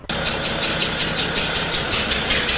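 A marine engine runs in a maritime training academy's engine workshop, a loud, close, steady mechanical drone with a regular pulsing beat throughout, heard alone.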